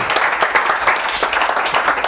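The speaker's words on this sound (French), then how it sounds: "On applaudit pour Mocristo, il est magnifique" A comedy club audience applauds a comedian, a dense continuous wash of clapping heard at moderate distance with no speech over it.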